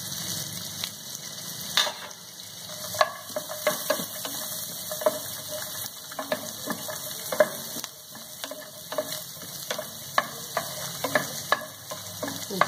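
Cashews and chopped carrot fry in a pan, a steady close sizzle punctuated by sharp, scattered taps and clicks of stirring, with no voices.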